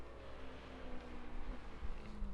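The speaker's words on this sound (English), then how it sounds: "Hearing lots of engine revving." Many race car engines rumble and rev together at the start of a racing video game race at Sebring. The drone is steady and low, with a faint tonal whine running through it.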